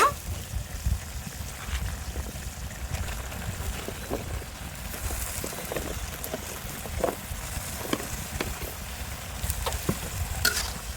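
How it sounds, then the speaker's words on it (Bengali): Malabar spinach is tipped into a pan of frying dried fish and stirred, with a low sizzle under repeated scraping stir strokes and soft clicks of the utensil against the pan. "শুটকি মাছগুলো আমার কষিয়ে নেওয়া হয়ে গেছে এখন আমি শাকগুলো দিয়ে দিব"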